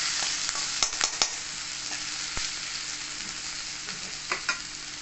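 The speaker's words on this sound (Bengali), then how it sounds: "আদা রসুনকে ভালো করে ভেজে নেব।" Ginger garlic paste frying with onions in a pan for kundru sabji, a steady close sizzle punctuated by a few sharp spoon-stirring clicks, with no talking.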